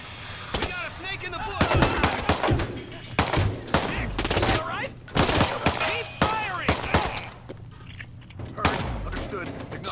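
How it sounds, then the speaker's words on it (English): Rapid bursts of pistol gunfire in the video game Hitman 2, many sharp shots in quick uneven succession over game sounds, with a voice talking throughout. "firing with a pistol is so weird in this game."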